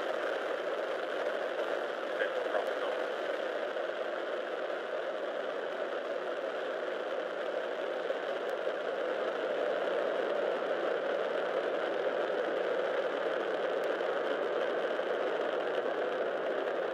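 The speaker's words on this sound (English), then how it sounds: "Ignition, liftoff. Vehicle is pitching downrange." SpaceX Falcon 9 rocket engines at liftoff on the Crew Dragon DM-1 launch, a steady, dense broadband roar that holds at constant loudness for the whole stretch, with no voices.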